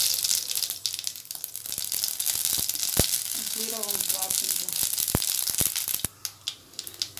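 Mustard seeds are dropped into hot oil, giving a close crackling sizzle with sharp pops and snaps, and a voice speaks briefly midway.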